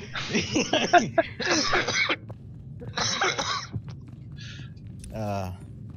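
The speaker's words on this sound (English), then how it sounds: "Along with coughing out your lungs, apparently" Several harsh, close coughs in quick bursts, a pause, then a couple more coughs ending in a throaty clearing sound.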